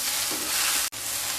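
Mung dal mixed with grated coconut, sugar and ghee is stirred in a pan with a brief, steady sizzling hiss that cuts out sharply near the end.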